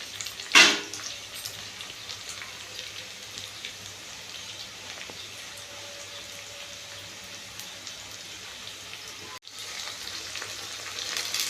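Onions and green chillies sauté in a pan for a biryani, with a steady, even sizzle and crackle throughout, close and moderately loud, with a sharp clatter near the start.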